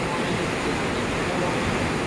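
Big stretch of water churning steadily like waves or a waterfall, a loud unbroken wash of noise with no pauses for two seconds.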